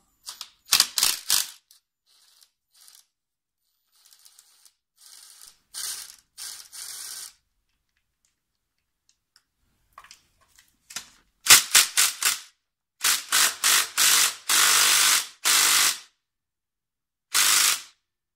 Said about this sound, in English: So I'm going to be using a power tool on this.